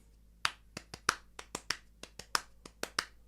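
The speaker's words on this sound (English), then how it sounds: "So if I'm clapping right now, just some simple notes" A dozen or so sharp hand claps in a simple, slightly uneven rhythm, close and distinct with short gaps between them, played alone as a rhythm demonstration.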